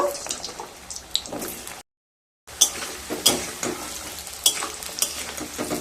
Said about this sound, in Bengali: এবার কড়াইতে বেশ কিছুটা সর্ষের তেল দিয়ে দেব তেলটা গরম হয়ে গেছে এবার আলুগুলো ভেজে নেব